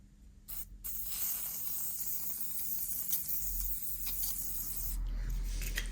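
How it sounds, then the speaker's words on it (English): WD-40 sprayed onto the sprocket of a 51-year-old Honda moped, a steady close hiss that starts after a short pause and runs on for about five seconds with little change. "So I'm going to douse this side in WD-40."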